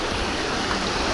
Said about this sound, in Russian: И волнишка нас встречает.